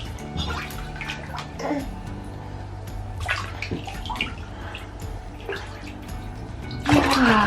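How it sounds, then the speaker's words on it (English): A baby of about five to six months splashes bathwater in a tub at bedtime, with light sloshing throughout and a louder burst of splashing near the end. "Are you splashing?"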